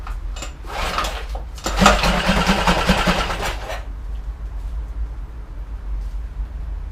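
A small Storm F6 engine sputters and catches on its first start, revving roughly for a few seconds before settling into a low, steady idle.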